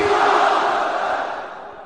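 A large crowd at a Khatm-e-Nubuwwat religious conference in Lahore roars a chant in unison answering the Nara-e-Takbir call, loud and full, fading slightly as it ends.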